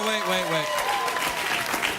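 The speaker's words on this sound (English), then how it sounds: "Thank you for applauding what could possibly be my imminent death" A late-night talk show studio audience breaks into loud, steady applause, a dense wash of clapping that starts with a brief voice over it and then continues alone.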